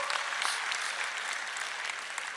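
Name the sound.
audience applause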